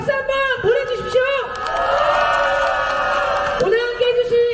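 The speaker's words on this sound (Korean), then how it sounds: "박수 한번 보내주십시오." A crowd at a Korean political rally demanding the president's removal cheers and claps for about two seconds, loud and close, between stretches of a speaker addressing them over a microphone.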